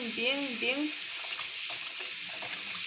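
Salted fish is rinsed under a running tap, with a steady rush of water throughout and a voice briefly speaking at the start.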